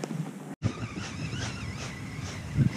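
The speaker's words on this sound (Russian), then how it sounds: "Поднялся, ребята, дикий ветер." Strong, gusty wild wind while perch fishing, blustering and buffeting the microphone in a steady roar with a brief dropout near the start and a swell toward the end, with no talking.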